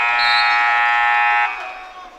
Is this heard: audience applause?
no